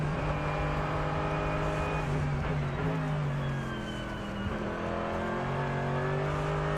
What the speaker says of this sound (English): It's just a relentless throttle noise, isn't it?